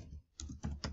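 Computer keyboard typing, a few quick, light key clicks in an irregular rhythm, faint and close.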